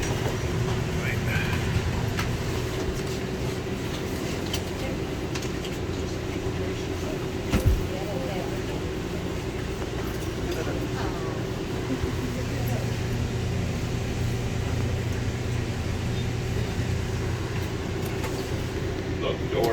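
The Denver airport terminal-to-concourse train runs with a steady low rumble and hum throughout, with an occasional clunk, while automated announcements and voices sound over it.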